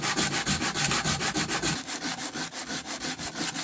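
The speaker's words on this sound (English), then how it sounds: "After a bunch of sanding, we ended up with a usable flat cylinder body" Steady back-and-forth scraping of sandpaper on a flat 3D-printed cylinder body, rhythmic strokes repeating quickly and close up, with no talking.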